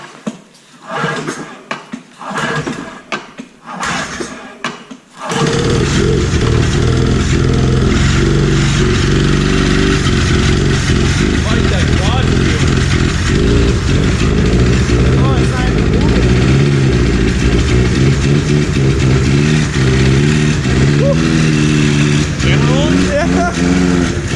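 A cheap old Ski-Doo snowmobile, left standing over five years, sputters with a few uneven pulls, then catches and runs loud and steady in a garage, a continuous rough two-stroke drone with slight revving.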